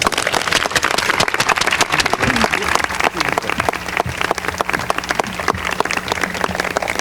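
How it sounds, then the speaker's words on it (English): Warm audience applause greets a guest speaker at a company launch event, dense sustained clapping from a large crowd filling the room for several seconds without pause. "Thank you, ladies and gentlemen, for your warm applause"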